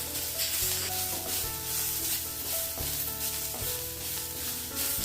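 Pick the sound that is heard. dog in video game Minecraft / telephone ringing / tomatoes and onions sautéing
tomatoes and onions sautéing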